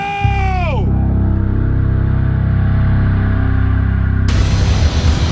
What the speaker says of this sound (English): Let's get ready to scream. Let's get ready to yell.